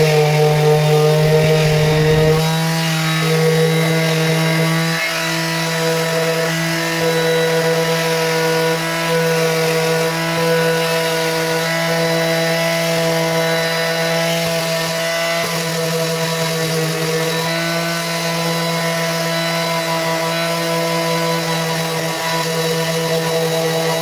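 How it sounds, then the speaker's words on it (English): Filler being sanded on a Shetland project, a loud continuous grinding drone with steady tonal hum that holds unbroken for over twenty seconds, with no voices. "I need to sand this filler up here and that down"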